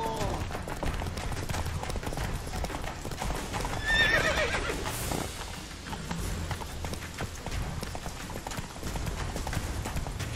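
Geralt's horse Roach from The Witcher 3 gallops with steady clip-clop hoofbeats, a loud whinny near the middle, and other game sounds mixed in.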